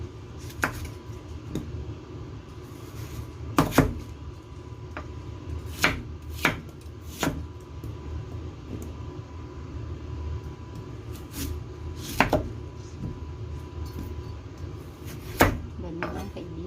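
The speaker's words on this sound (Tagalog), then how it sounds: "Malinis na at ating nang i-slice kaibigan into cubes." A knife chops cleaned pork bone soup ingredients into big cubes on a board, with sharp, irregular thuds spaced every second or two over a low background hum.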